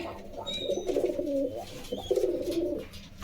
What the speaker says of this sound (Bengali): বেশিরভাগ গিরিবাজ কবুতর